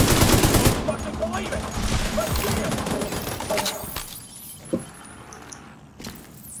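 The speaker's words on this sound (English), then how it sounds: "Fire at random. Just fire all the bullets." Rapid bursts of automatic gunfire in the shooter game The Division 2, dense and loud through the first seconds and then thinning into scattered shots and impacts.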